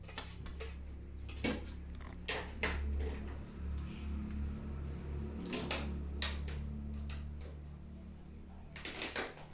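A knife cuts through a soft, jelly-like sweet on a plate, producing scattered light clinks and taps of metal on dishware, close and fairly quiet, with no talking.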